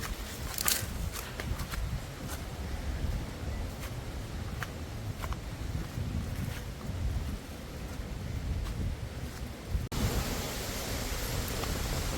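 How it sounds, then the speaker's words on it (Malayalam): Strong gale on a hill trek at Sooryanelli buffets the microphone in a constant roaring rush, with occasional gust bursts and crackles, loud throughout and no talking. "നല്ല കൊടുങ്കാറ്റാണ്"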